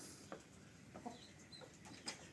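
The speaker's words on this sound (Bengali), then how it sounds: "আর একটা মুরগা আছে এটাতে সাথে আছে একটা কালো মুরগি" Chickens and a rooster in a poultry farm shed in Kaliganj, Gazipur, giving a few faint, brief clucks spaced over a quiet background.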